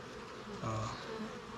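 Honey bees buzz steadily around an open hive during drone brood season, a close, continuous hum that swells slightly partway through.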